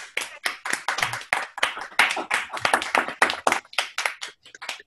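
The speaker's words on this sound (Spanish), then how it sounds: "Y pues un aplauso," An audience at a talk on the history of the telescope breaks into steady applause, a continuous run of close, crisp hand claps with no voices over it.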